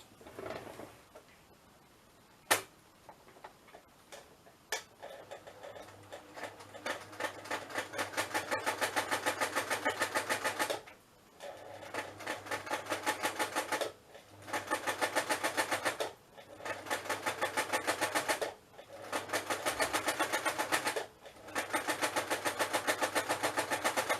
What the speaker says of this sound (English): I'm just going to quickly just run the sewing machine along that bit